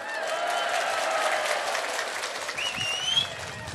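Clapping from an audience at a religious lecture, a steady patter of hands over several seconds, with a voice heard briefly near the end.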